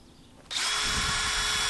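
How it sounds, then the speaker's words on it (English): A power drill starts abruptly after a brief quiet moment and runs at a steady high whine, boring a quarter-inch hole into a log for a mason bee pollinator hotel, loud and close with no talking. "To make these holes, we need a power drill."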